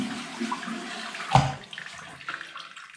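A toilet flushes during an emergency plumbing repair in London, rushing water with a sharp surge partway through, close and alone without talk.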